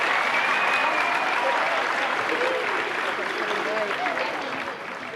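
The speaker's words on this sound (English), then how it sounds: "just a round of applause for all these guys for getting here" Audience applause fills a school winter concert for a sixth grade band and choir, a steady dense clapping from a large crowd that holds strong and then thins slightly toward the end.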